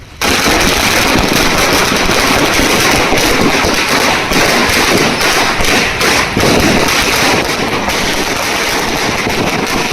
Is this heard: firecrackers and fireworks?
yes